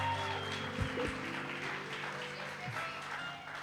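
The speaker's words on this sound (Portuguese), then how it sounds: "Vamos aplaudir o Senhor?" A congregation applauds together during an evangelical church service led by a pastor, a steady wash of clapping over a low hum that lasts the whole moment without any voice on top.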